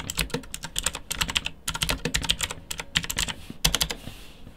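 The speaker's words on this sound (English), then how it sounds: "this is a mechanical keyboard, so you're going to get that nice mechanical sound" Typing on a GAMDIAS Hermes E2 mechanical keyboard: close, crisp clicky keystrokes in quick bursts separated by brief pauses, heard alone without any talking.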